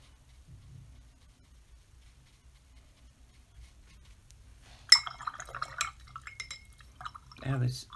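Paintbrush swished through a water jar in a figure-eight motion to rinse watercolor paint, a brief burst of soft sloshing and glassy clinks up close after a quiet start, with a final splashy swirl.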